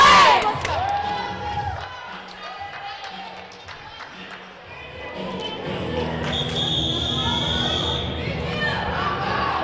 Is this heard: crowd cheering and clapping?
yes